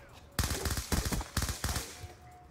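Four heavy shotgun blasts boom in close succession from a first-person shooter match in Call of Duty Black Ops II Search and Destroy, each a loud broadband burst with a short decay, under faint background game noise.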